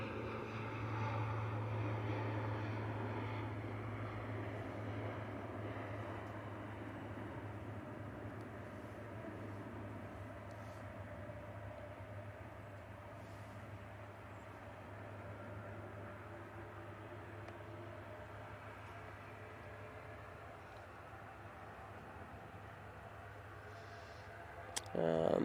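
At an airport, a tug tows an aircraft across the apron while a Jet2 757 waits nearby. A steady low mechanical hum and distant engine drone fill the air under wind, with brief clunks at the end.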